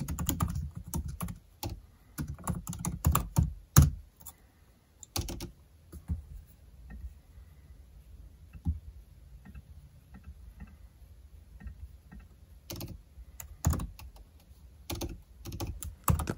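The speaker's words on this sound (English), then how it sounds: "The typing on the MacBook feels so smooth and far better than previous models." Typing on a 2022 MacBook Pro laptop keyboard: steady bursts of light, close key clicks with short pauses, clattering alone without voices.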